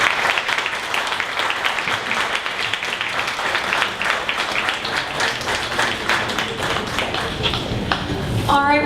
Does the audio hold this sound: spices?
no